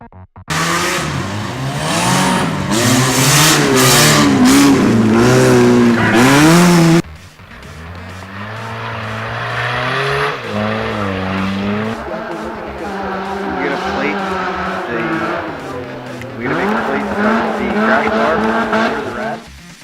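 Off-road race cars on a muddy track, engines revving loudly and close with tire squeal and skidding, rising and falling as the cars pass, with speech over the racing.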